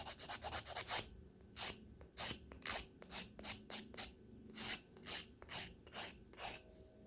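Hand filing and shaping a sculpted acrylic nail, close, crisp rasping strokes in a quick run and then steadier repeated back-and-forth strokes, with no talking.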